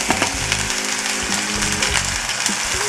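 Chopped onion dropped into a pan with a little oil sizzles steadily, a close, continuous crackling fry with occasional sharper pops and scraping.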